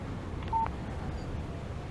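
Short electronic phone alert announcing a text message in the Alan Wake video game, a single brief beep tone over a faint steady background hum.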